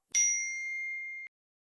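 A single bright notification bell ding rings out alone, sharp attack then a steady sustained tone lasting about a second before cutting off cleanly.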